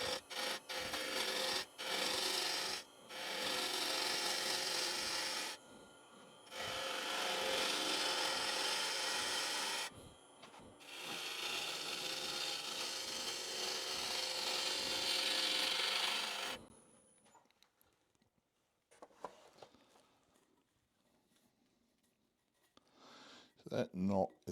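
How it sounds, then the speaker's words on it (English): A bowl gouge cuts a wooden bowl spinning on a lathe, giving loud sustained scraping and rasping in several long passes separated by short breaks, then near silence with a few light knocks. "Get it back on the bowl gouge and let's get it into shape."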